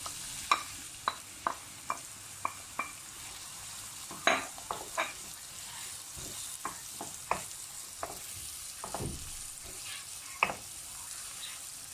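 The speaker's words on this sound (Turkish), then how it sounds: "Sıvı yağını koydum. Şimdi soğanlarını ekliyorum." Onions fry quietly in oil in a pan, a low sizzle broken by sharp crackles and pops scattered throughout.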